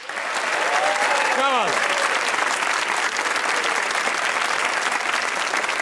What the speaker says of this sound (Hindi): एक बार तालियां और बजाइए